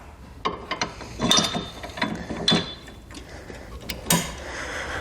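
Curt two-bike platform rack on a 2012 Volkswagen CC being folded up with its pin pulled and reinstalled: close metallic clanks, rattles and ratcheting clicks in irregular bursts.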